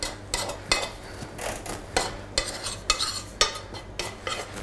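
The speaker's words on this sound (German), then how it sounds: "Also das Mehl ohne Fett nur anrösten." A utensil scrapes and stirs flour being dry-toasted without fat in a hot pan, dry rhythmic scratching strokes close by with a faint sizzle underneath.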